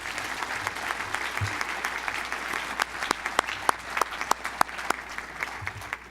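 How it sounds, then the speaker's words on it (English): Applause from an audience at a panel discussion for the panelists and moderator, steady and moderate, with a few louder individual claps standing out. "Applause for our panelists and our moderator."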